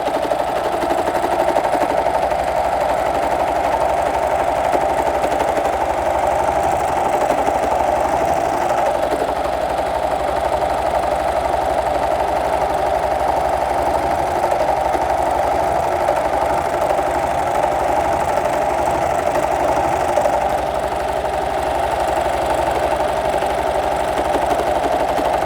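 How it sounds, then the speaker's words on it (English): A serger runs continuously along a pillowcase seam, a steady loud mechanical whir with a fast stitching rattle that holds unbroken for the whole stretch, close up and without voices. "You just run it under the serger."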